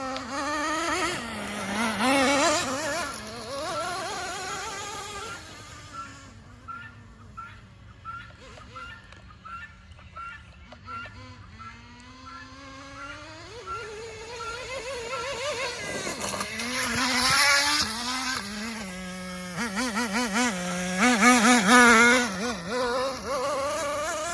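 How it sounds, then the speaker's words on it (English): A Traxxas Nitro Slash RC car's small nitro engine, recently revived from a seized, locked-up state, buzzes and revs in rising and falling bursts, loud and close, with a quieter idle stretch in the middle and a voice speaking over parts of it. "This was just a seized, locked up engine, now it's running."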